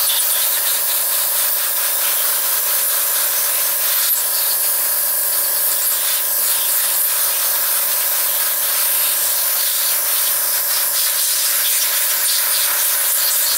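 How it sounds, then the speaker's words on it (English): An airbrush sprays a light, even coating of color over fondant-covered rice krispie Christmas trees, giving a steady soft hiss that runs close and continuous throughout, with no talking. "So you're just going to start airbrushing on it."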